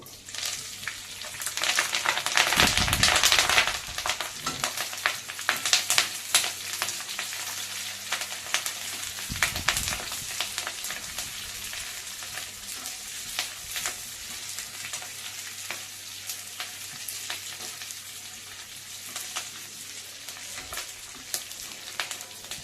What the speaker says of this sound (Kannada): ಇವಾಗ ಕ್ಯಾಪ್ಸಿಕಮ್ ಹಾಕ್ತಾ ಇದ್ದೀನಿ ನಾನು.